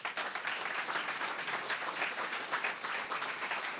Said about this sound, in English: Let's give a big round of applause again for Katie Stevens and her call to action